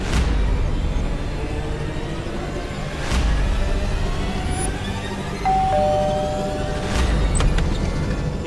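A doorbell rings in a house, with a short chime tone near the middle standing out over a busy background of faint thumps and sharp clicks, and no talking.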